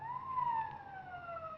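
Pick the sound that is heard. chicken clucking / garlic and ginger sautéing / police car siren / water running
police car siren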